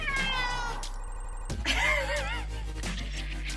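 A cat meows insistently for attention, giving a few drawn-out, wavering cries close by in a quiet room.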